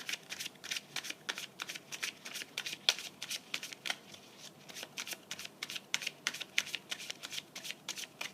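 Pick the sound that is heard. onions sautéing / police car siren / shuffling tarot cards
shuffling tarot cards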